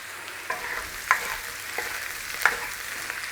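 Mushrooms browning in butter in a pan, a continuous close sizzle broken by a few sharp stirring scrapes and clicks, with no voices.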